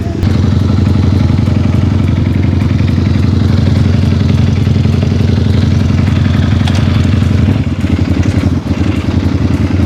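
A Ducati motorcycle engine runs loud and close on a race track, with a steady throbbing rumble and some mechanical clatter.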